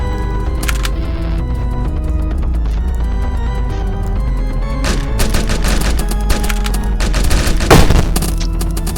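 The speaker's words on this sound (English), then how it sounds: "Where's that Tommy gun? Give me that thing." Rapid bursts of Tommy gun fire in the video game Rogues Gallery, loud and close, with several volleys of automatic shots and a heavy boom near the end over a steady game music bed.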